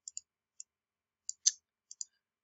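A computer mouse clicks several times in quick, sharp, isolated taps, with one slightly louder click in the middle, close and otherwise silent.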